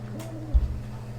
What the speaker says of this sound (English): That was a real owl, though.